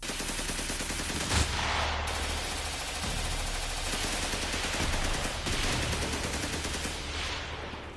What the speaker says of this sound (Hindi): ताबड़तोड़ गोलियों की आवाज और बम धमाके से जेल परिसर थर्रा गया